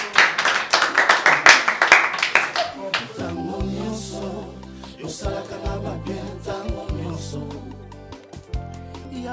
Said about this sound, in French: Est-ce qu'on peut applaudir encore une fois de plus pour la sœur?